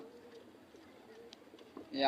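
Faint, low cooing of a pigeon against a quiet background, ending in a brief rustle or scuffle.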